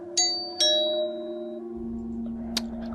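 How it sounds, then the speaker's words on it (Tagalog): A house doorbell sounds two quick bright chimes that ring out and fade, followed by a soft low hum and a faint click, with no voices. "sino kaya ito nagdo-doorbell?"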